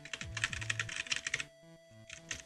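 Keys clatter on a computer keyboard in a quick burst of typing, pausing briefly under a steady hum before a few more keystrokes follow, close and clear with no voice.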